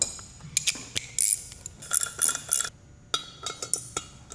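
A ratchet clicks and metal parts clink while bolts are snugged up on a Harley-Davidson Sportster chopper build with polished stainless hardware, irregular bursts of quick ratcheting close by, with brief pauses between turns.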